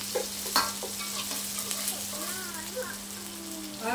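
Kailan greens stir-frying with minced garlic, chilli and onion, a steady sizzle with scraping stirs and a few sharper clatters, while voices talk intermittently over the cooking.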